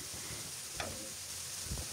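Spices sautéing in a pan for chicken curry, a quiet steady sizzle with a brief scrape of stirring midway, heard close and alone.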